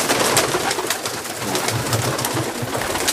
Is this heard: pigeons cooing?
yes